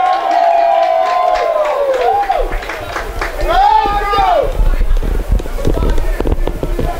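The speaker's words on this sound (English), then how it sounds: "Crowd trying to get into this one." Crowd noise at a college baseball game between StMU and UHV, a broad murmur of cheering and chatter with whistling calls rising over it, steady and fairly loud throughout.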